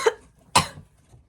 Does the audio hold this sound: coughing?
yes